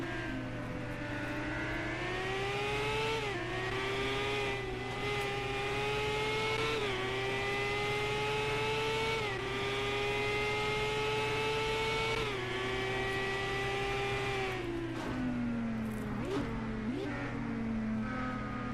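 IndyCar engine in a racing video game at the Mexico Grand Prix, a loud steady high-pitched whine that drops on each downshift to 4th, then climbs up through 5th and 6th gear with sharp pitch steps, under a constant low hum.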